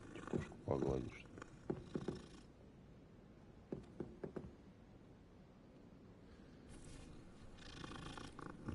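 A cat purrs in a Hogwarts video game, a soft low rumble running quietly under intermittent talk and brief louder game sounds.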